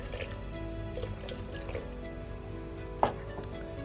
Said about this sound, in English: so at this point I'll now add some water inside of the blender